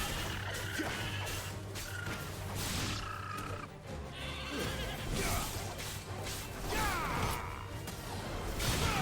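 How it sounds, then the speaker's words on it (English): Sheep or lamb bleats from the video game Final Fantasy 16 mix with whooshing game effects and clattering impacts, a busy, dense, moderately loud soundscape with no talking. "That sounds like a sheep or a lamb."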